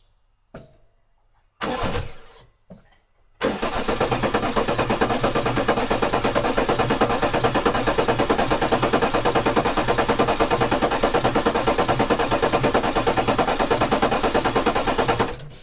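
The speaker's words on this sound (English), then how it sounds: "try to start the car" A BMW 3 Series 3.0D diesel with fuel system issues cranks after a couple of short stuttering attempts, then catches and settles into a loud, steady clattering idle close to the microphone.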